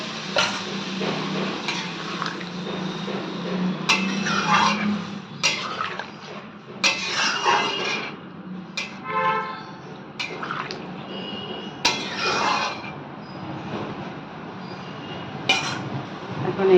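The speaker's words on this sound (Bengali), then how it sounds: "এখন এর মধ্যে দিয়ে দেবো অল্প করে জল, বাটি ধোয়া জল।" Water swirled in a spice-coated bowl and poured into a pan of cooking soybean curry, clinking bowl and utensil knocks, splashing and drips, then quieter pan sounds, close and intermittent, with no speech.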